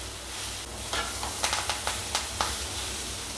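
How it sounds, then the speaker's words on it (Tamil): Spice powder mix sautéing in hot oil for a raw banana dish, a soft continuous sizzle with several sharp crackles and stirring scrapes close by. "இந்த பொடி மாசு கொஞ்சம் நேரம் நல்லா எண்ணெயில் வதங்கணும்."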